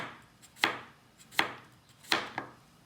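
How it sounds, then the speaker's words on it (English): A knife slices an English cucumber into thin rounds on a cutting board for a quick pickle: three crisp, evenly spaced chops with faint follow-up taps, close and alone. "I've got a English cucumber, and again, just cutting it really nice and thin."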